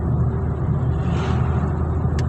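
A car drives along the Muscat to Ibri road in Oman, a steady low rumble of engine and tyres from inside the cabin, continuous and fairly loud, with a faint passing whoosh near the end.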